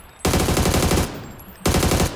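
Automatic gunfire in PUBG: two loud, sustained bursts, the first lasting nearly a second and the second starting after a short pause, with no talk over them.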